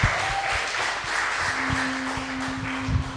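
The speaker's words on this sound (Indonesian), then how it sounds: "Berikan tepuk tangan." A church congregation applauds at a jubilee Christmas service, with steady clapping filling the hall for a few seconds.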